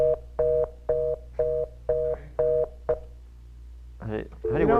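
Telephone keypad dialing: seven evenly spaced tone beeps in a quick rhythm over a low hum, followed by a voice speaking at the end.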